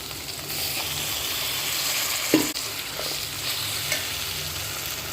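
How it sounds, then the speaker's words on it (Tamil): Ground onion and coriander paste sautéing with okra in a pan, a steady soft frying sizzle with occasional stirring scrapes and a brief clatter midway, close and alone. "வெங்காயம் வதங்கிட்டுருக்கு."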